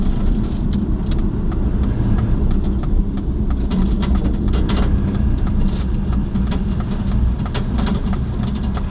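Aston Martin engine running at a steady idle with belt noise in a continuous mechanical whir, broken by faint intermittent ticks and clicks, close and without talk.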